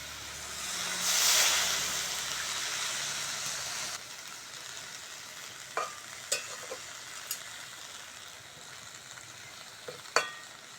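Washed drumstick leaves hit a hot pan with a little water, raising a loud hiss and sizzle for a few seconds. Gentler simmering follows, broken by several sharp clicks and scrapes of a stirring spoon, with no voices.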